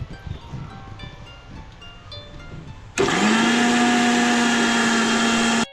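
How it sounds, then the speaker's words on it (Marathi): An electric mixer grinder starts abruptly and runs loud and steady, grinding sautéed onion, tomato and garlic, after a few seconds of quiet kitchen background. "कांदा टोमॅटो आणि लसूण लसूण जे परतून घेतलं होतं ते मध्ये बारीक करून घ्यायचं"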